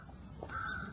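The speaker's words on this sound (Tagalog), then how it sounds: "May mga uwak oh." Crow cawing at Meiji Jingu Shrine in Tokyo, a single faint, brief caw set against a low outdoor background.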